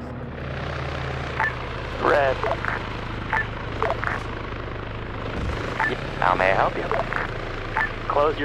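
A helicopter drones and hums steadily under game roleplay, with crackly radio-style voices talking over it throughout.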